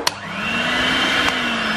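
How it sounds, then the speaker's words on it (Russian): An electric hand mixer runs steadily through mashed potatoes, a continuous close motor whine with one brief clack near the start and another around the middle, no talking over it. "теперь мы опять берем миксер"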